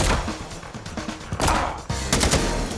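Kalashnikov rifle fire in the video game XIII comes in several loud, close bursts of rapid automatic shots, separated by brief pauses, with no talk over it.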